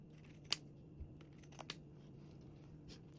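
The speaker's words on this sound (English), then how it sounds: "trimming around the bottom edge with pinking shears again" Pinking shears snip around the bottom edge of fabric for a sling strap, giving a few sharp isolated cuts spaced irregularly over a low steady background hum.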